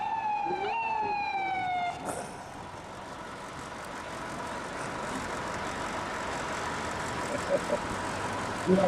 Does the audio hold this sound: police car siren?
yes